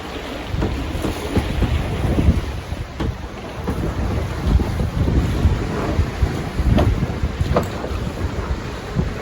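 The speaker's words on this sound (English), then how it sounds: "We're cruising along at about 6 knots" Boat cruising at about 6 knots along the coast near Agnes Waters, with wind buffeting the microphone and water rushing and slapping in a continuous, gusty roar.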